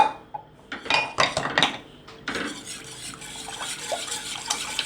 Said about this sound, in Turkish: Bu arada çırpıcı yardımıyla da karıştırabiliriz artık.